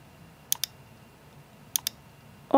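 Computer mouse clicks in an app interface, two quick double-clicks spaced apart, crisp and close over a quiet background hum, followed by a brief louder sound at the end.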